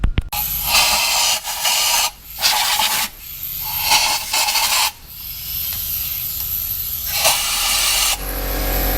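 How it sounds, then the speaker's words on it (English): On a Ford Crown Victoria engine, an air hose blows into the spark plug holes in repeated loud, close hissing bursts, some short and some held for a few seconds, with brief pauses between. "we're going to take the air hose again and we're going to blow air into the holes and around the opening of the holes"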